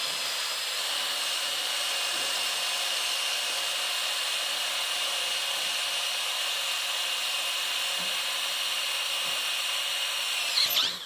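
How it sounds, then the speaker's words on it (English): A Diablo Metal Demon drill bit bores through thick steel angle iron at a slowed speed, giving a continuous high, hissing whine that holds steady for several seconds and roughens briefly at the end. "I've slowed it down a little bit because we are drilling through thicker metal"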